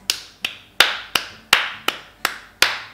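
Hands clap a steady quaver rhythm: eight sharp, evenly spaced claps, close and alone.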